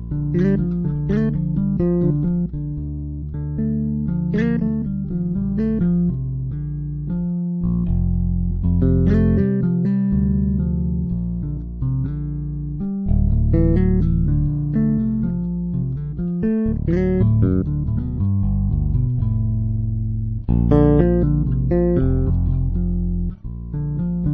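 Deep, round sampled bass notes played from a keyboard (Spectrasonics Trilian) in a steady melodic line, each note plucked cleanly and sustained, loud and close with no voices.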